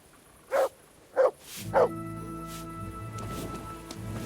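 A dog in the medieval game Kingdom Come: Deliverance gives three sharp, spaced barks, followed by a steady low hum of ambient game sound.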